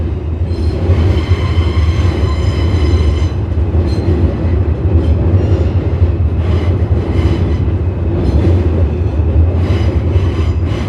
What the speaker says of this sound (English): That's an F train, and that's going to Coney Island.